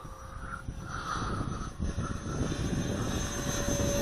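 A FreeWing ME 262 RC model jet climbs out after takeoff, its steady whining drone holding at moderate distance and slowly building in loudness with no talk.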